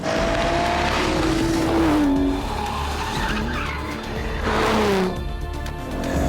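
Supercar driven hard around a tight handling circuit, engine roaring close and loud with gear changes and rising pitch, tyres squealing as power comes on through the corners.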